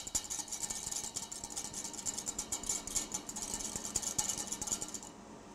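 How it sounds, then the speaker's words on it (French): A built-in kitchen range hood runs steadily while pulling cooking smoke, making a constant whooshing fan roar with a faint mechanical whine that stops abruptly near the end. "j'ai ma hotte intégrée qui est en train d'aspirer toute la fumée"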